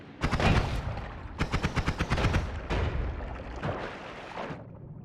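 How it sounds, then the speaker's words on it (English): Explosions and rapid blasts in the video game Noita: sharp bursts in quick rattling runs, several clusters of loud cracks fading into rumbling tails, with no talk over them. "Explosions going on here."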